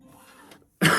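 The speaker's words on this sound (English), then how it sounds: "And then I have this cough." A single sharp cough bursts out loudly after a stretch of quiet talk-level background and a short silence.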